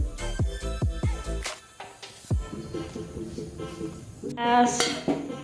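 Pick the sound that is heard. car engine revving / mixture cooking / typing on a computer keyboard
mixture cooking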